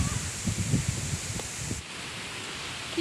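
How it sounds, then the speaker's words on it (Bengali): Strong wind sweeping in suddenly after a hot, still day as rain approaches, a steady broadband rush with leafy rustling, faint voices murmuring at the start. "কি সুন্দর বাতাস নামছে"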